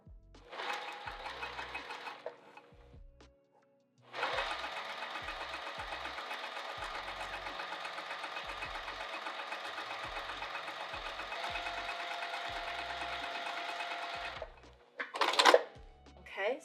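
A sewing machine stitches down a fabric edge in two runs, a short burst and then a long steady whirring hum of about ten seconds, close and alone.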